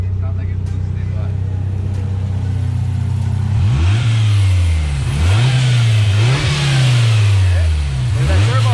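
A Mazda Miata engine fitted with a coolant reroute kit revs repeatedly in rising and falling sweeps over a steady idle, loud and close, with a person talking nearby.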